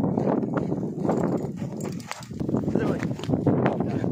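Horse hooves clip-clop in a rural farm setting, a steady run of hoofbeats heard under loud, excited shouting.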